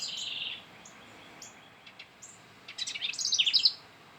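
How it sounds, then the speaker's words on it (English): Small bird in a garden tree calling from close by, a few short high chirps followed by a quick run of bright tweets, clear over quiet outdoor background. "there is a bird within a foot of me in the tree"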